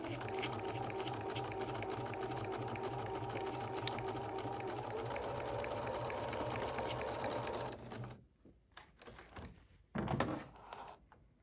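A sewing machine back-stitching a tie down onto a comfort-fit mask runs steadily and loud for about eight seconds, then stops, followed by a few clunks and handling knocks.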